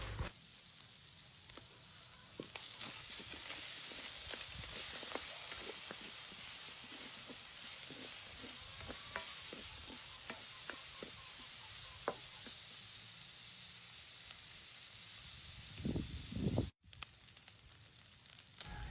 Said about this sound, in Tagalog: Ipapan fry lang natin ang ating pork chop ng mga ilang minuto at naglagay tayo ng kunting oil.